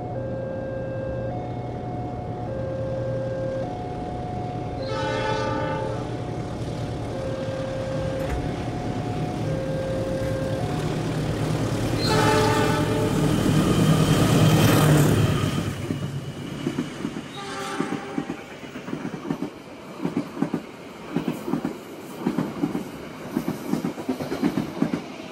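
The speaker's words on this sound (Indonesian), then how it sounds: "kereta Pangandaran akan tunggu bersilang dengan kereta api Malabar dari arah Malang tujuan ke arah Bandung" At the small Awipari station in Indonesia, the Malabar train from Malang to Bandung passes the waiting Pangandaran train: a long loud rumble with a sustained tonal hum, rising clatter of wheels, then the passage fades into quieter intermittent clanks.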